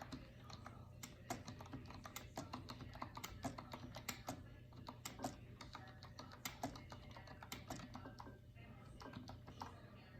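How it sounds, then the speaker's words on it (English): Fingers typing steadily on a computer keyboard, a continuous run of light, quick key clicks at close range, fairly quiet with a soft background hum. "I'm going to type just a little bit so you can see."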